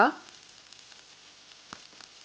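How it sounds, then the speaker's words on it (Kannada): Chopped okra roasting in a hot pan for sambar gives a soft, steady sizzle after a brief louder clatter at the start, fairly quiet and close. "ಚೆನ್ನಾಗಿ ರೋಸ್ಟ್ ಮಾಡಿಕೊಳ್ಳುವ"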